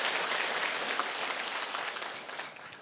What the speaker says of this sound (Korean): 우리 자신들을 위해서 박수 한번 치도록 하겠습니다